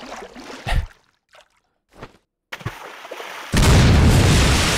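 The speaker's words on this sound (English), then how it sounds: "What about normal grenade?" Hand grenade going off in Resident Evil 4 (GameCube), a sudden loud broadband blast that swells and sustains at the end after brief scattered game sounds and short bursts of quiet.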